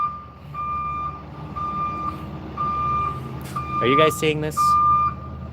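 An R&L freight truck reversing as it pulls up sends out steady, evenly spaced beeps under a low engine rumble. Someone speaks briefly over them toward the end.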